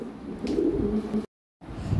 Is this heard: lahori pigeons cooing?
yes